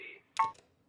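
A short electronic telephone keypad tone in the video game Kentucky Route Zero, a brief synthetic beep burst followed by a second quick tone, then silence.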